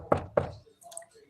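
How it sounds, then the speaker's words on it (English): Two firm knocks, evenly spaced and close by, likely knuckles on a door, followed by faint background noise. "Ginger, that's your mama knocking."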